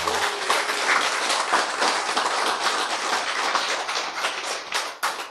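Sustained applause from an audience in a lecture hall, dense steady clapping throughout that thins slightly toward the end, with a few sharper claps near the close.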